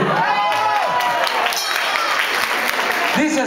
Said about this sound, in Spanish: pueden aplaudir, ¿eh?